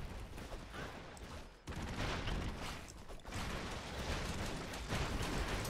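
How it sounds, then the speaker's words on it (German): Dense, continuous salvos of rapid gunfire and explosive bursts from the video game Broforce, loud and close, briefly cutting out twice before resuming at full intensity. "Hat er nur so Salven, die er schießen kann, oder was?"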